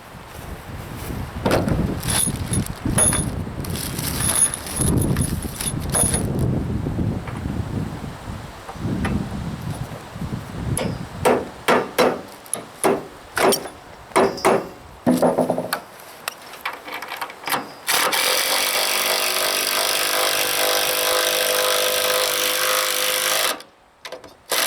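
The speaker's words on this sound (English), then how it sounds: "I'll continue pre-drilling these and putting the bolts in." A power drill pre-drills holes and drives bolts on a trailer build at an off-grid homestead. It runs in short, close, loud bursts with pauses between them, then settles into a longer sustained run.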